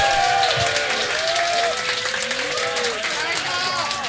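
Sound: audience applause at live bar concert

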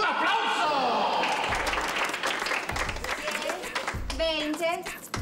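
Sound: applause

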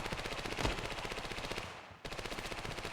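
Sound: gunfire in a video game

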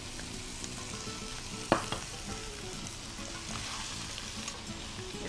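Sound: raw jackfruit sizzling while frying in a pan

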